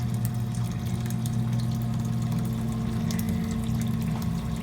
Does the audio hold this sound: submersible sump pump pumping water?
yes